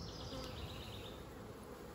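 A dense, steady buzz of many honey bees at a hive during an inspection, continuous and unbroken throughout.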